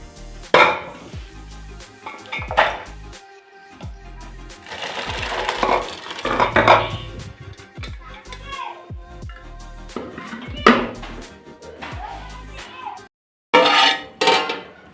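Cooked sprouted gram is moved into a cooking pot with repeated metallic clinks, scrapes and clatters of a spoon and utensils, coming in uneven bursts with short pauses between them.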